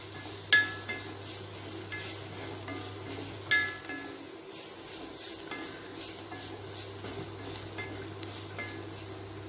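Ground pepper powder is sautéed with garlic and onion in oil for a mutton liver fry, with a soft sizzle under clinking spoon strokes against the pan, including a couple of sharper knocks.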